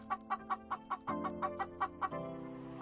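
A hen clucks in a steady run of about ten short, evenly spaced clucks, fairly close, with a low hum underneath.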